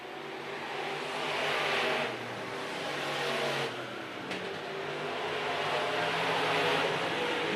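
Race cars circling a speedway, a continuous engine roar that swells and fades as cars pass, loud and fairly near, with no talk over it.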